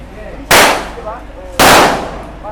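Two loud gunshots at a firing range crack out about a second apart, sharp and close, each decaying quickly, with faint voices in the background between them.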